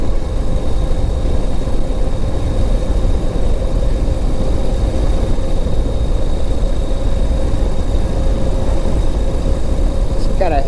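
A Ural 750cc sidecar motorcycle engine runs steadily at a low, torquey idle, a continuous loud rumble filling the whole clip with no pauses.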